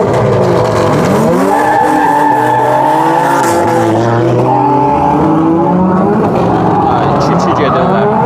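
A drift car at a Baku drift show event skids with sustained tire squeal and a roaring engine, loud and continuous with a crowd murmuring throughout.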